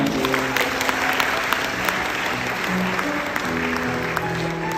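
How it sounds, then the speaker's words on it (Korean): Wedding guests in a Lotte Hotel ballroom applaud during the ring exchange, a full, sustained round of clapping with faint background music tones underneath. "박수 한번 부탁드립니다."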